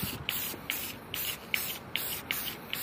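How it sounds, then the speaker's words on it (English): An aerosol spray paint can hisses in a series of short bursts while coating a mini cooler console, about seven close spritzes with brief pauses between them. "Shake this can up here and let's start spraying."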